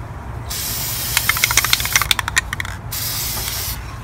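A spray can hisses in bursts, with a loud steady spray that stops and starts again. A run of quick rattling clicks in the middle sounds like the can being shaken.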